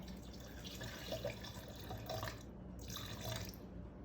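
Water is poured into thick pumpkin soup before blending, a close steady trickling pour with drips that briefly cuts out and resumes, with no voices.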